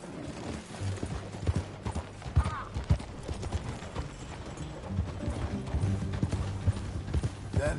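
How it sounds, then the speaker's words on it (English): Steady clip-clop of horse hooves at a walking pace in Red Dead Redemption 2, fairly quiet, with faint background sounds and a murmur of voices underneath. "Get on your horse, John"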